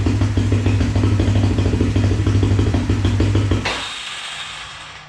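A Yamaha Grizzly 350 ATV engine running rich, its carburetor dumping fuel, chugs close by in a steady lumpy idle for several seconds, then cuts out abruptly and leaves a fading hiss.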